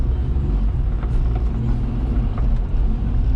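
A 4WD kei truck drives steadily off-road over grass, its small engine a continuous low rumble with road noise, close and unbroken throughout.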